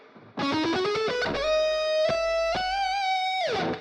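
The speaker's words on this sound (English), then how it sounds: "Part 2 of this lick sounds like this" Distorted electric guitar lick, a fast burst of picked notes rising into a long sustained bending note with vibrato, loud and close, ending in a quick descending run.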